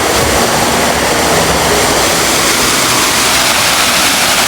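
A waterfall near the source of a stream at Ansan, Korea, roars loudly and steadily from close by. The rushing water fills the whole stretch without a break, and no voices are heard.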